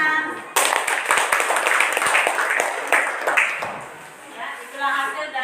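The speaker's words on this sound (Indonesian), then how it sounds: "berikan tepuk tangan" Students in a classroom break into a burst of dense hand clapping that runs for several seconds before thinning out, with voices mixed underneath.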